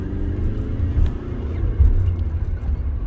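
A car engine hums and rumbles steadily near at hand while pulling away from a road junction in second gear, its low drone swelling slightly with acceleration and no voice over it.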